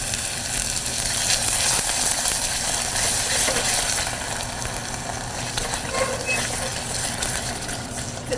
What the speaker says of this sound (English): If it sizzles that much, the heat might be on too high.